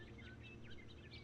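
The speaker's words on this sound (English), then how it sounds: "You can hear the birds chirping." Birdsong in The Stanley Parable video game: a steady bed of light, high chirps and short tweets over a low ambient hum, continuous and moderately faint throughout.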